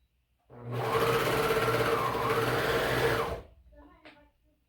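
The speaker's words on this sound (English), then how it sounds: "But I'm going to do this with my serger." A serger sews a neckband seam on a knit top, a steady close buzzing run of about three seconds that then cuts off.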